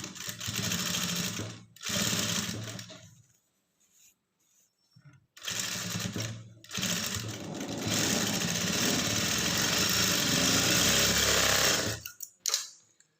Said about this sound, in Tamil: மேலே வந்து ஒரு டாப் ஸ்டிச் போட்டுக்கலாம்